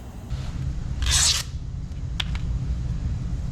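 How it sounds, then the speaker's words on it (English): Refrigeration tubing on an R-290 cooler is sanded ahead of brazing on a process port. A short gritty rub rises over a low hum, followed by a couple of faint ticks. "we're going to get everything sanded up so we can put a process port on it"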